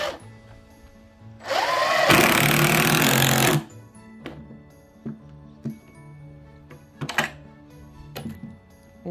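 Power drill driving pocket hole screws into clamped wood with a Kreg 520 Pro jig, one loud whirring burst of about two seconds, followed by scattered clicks and taps of handling.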